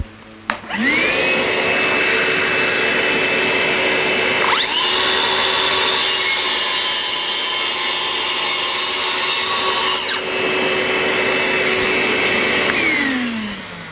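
A Stanley FatMax SBC550 circular saw runs steadily through a long cut, its high whine holding for about twelve seconds over the roar of a dust extractor, then winding down.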